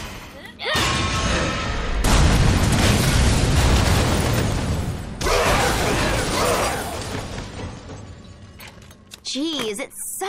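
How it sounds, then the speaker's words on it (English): Explosions and crashing mechanical bursts in the hack-and-slash video game Lollipop Chainsaw, loud and dense for most of the stretch with a short break before a second blast, tapering into scattered game effects. "it sucks when things explode"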